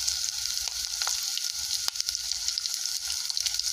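Spices sizzle steadily in a hot pan while being fried for Bengali egg posto, a close, even crackle with a few sharper pops and stirring scrapes throughout.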